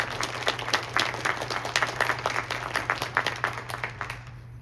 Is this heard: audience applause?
yes